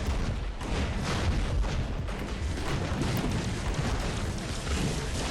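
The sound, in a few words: rockets firing in video game War Robots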